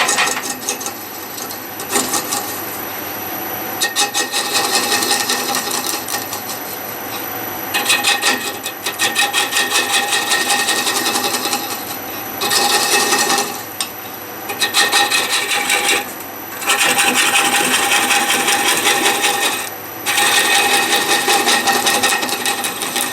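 A wooden robin nest box spins on a lathe while a 13 mm profiling gouge cuts it, giving a continuous raspy, scraping hiss that comes in long passes with short pauses between them.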